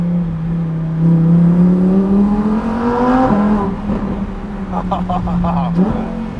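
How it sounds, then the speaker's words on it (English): A 2021 Lamborghini Huracán EVO's exhaust roars as it revs up with valves open, drops sharply on a downshift, then climbs again, loud and close with crackles near the end. "the exhaust valves open up, and you get to listen to this"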